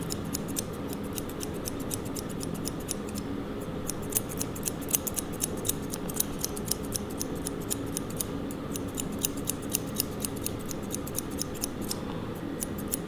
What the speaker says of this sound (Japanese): 上の方切るときはハサミの向き変えて